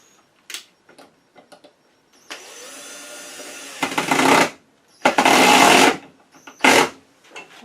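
Power driver bursts sinking screws into a lathe faceplate, several separate whirring runs of a second or so each, close and fairly loud, with light handling clicks between them.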